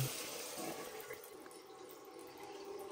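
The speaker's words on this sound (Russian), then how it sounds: "Спустим горячую воду, чтобы не было давления." Hot water runs out of a household water heater being drained, a faint, steady rush and trickle of flowing water that continues evenly for the whole stretch, with no voices.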